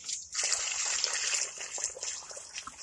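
A gallon jug of water poured into an already full chicken water trough outdoors, a close, continuous splashing trickle after a brief quiet start, fading unevenly toward the end.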